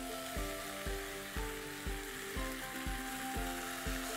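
Onion masala sizzles in a pan as tomatoes go in for an egg roast, a steady frying hiss with regular rhythmic scraping or stirring knocks about twice a second, quiet and without talk.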